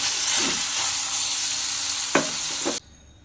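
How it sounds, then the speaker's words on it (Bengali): Chicken pieces fry in hot oil in a kadai, a dense steady sizzle with a few sharp clatters of stirring near the end before the sound cuts off abruptly. "এখন চিকেনগুলো ভেজে নেব।"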